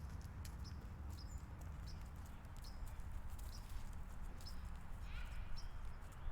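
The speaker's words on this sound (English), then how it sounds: "Cute, shiny little horse." Steady clip-clop of hooves from a walking horse over a constant background rumble, fairly faint and regular.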